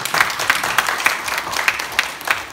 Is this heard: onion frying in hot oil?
no